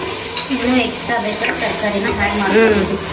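Tomato, green chili, onion and capsicum frying in a pan for a homemade burger, loud close sizzling with spatula stirring and scraping throughout, no speech.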